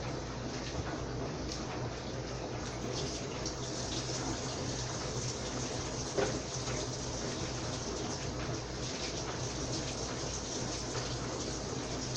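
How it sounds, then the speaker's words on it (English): A kitchen tap runs steadily while hands are washed between steps of making a vegan chocolate cake; a continuous, close, even rush of water with no talking. "Let me wash my hands first."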